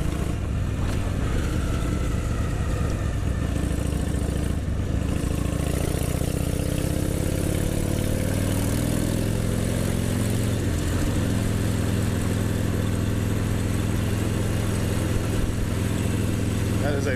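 A motorcycle engine running steadily while riding, with a loud continuous drone and gear-related shifts in pitch partway through, heard from the rider's position with wind noise.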